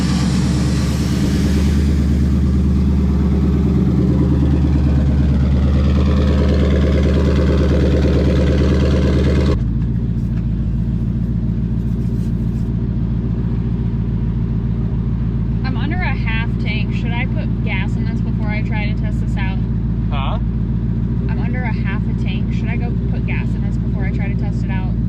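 A twin turbo Ford Mustang engine idles roughly while warming up, with a loud burbling rumble that steps up in pitch as it is revved, and people talk over it.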